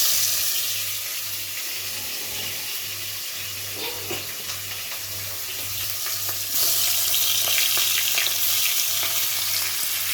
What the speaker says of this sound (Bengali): এখন এই তেলে এই মাছটা ভেজে নিব।